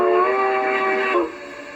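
One short steam whistle toot from an LGB Mogul model steam locomotive's Zimo sound decoder, close and clear, held just over a second before stopping.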